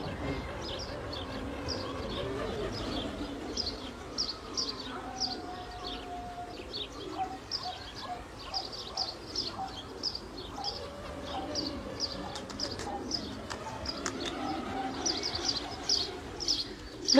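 Racing pigeons in a French loft softly cooing and chirping, repeated gentle calls close by over a low background hum, with occasional brief tones and knocks.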